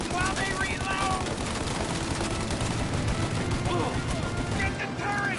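Steady gunfire fills a shootout in the video game Mafia, with dense overlapping shots and rattling bursts that keep on without a break, loud and close throughout.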